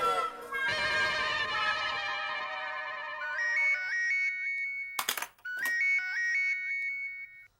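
A phone rings with an electronic melodic ringtone that repeats in bright, stepped musical phrases. It is loud and close, and a brief burst of noise interrupts it partway through.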